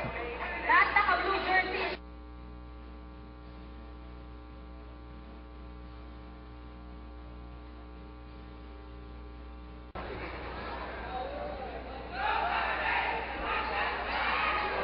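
A good-sized basketball crowd roars inside the Cuneta Astrodome during a Barangay Ginebra vs Powerade Tigers game, loud at the start and again near the end, broken by a long steady humming, tonal stretch in between.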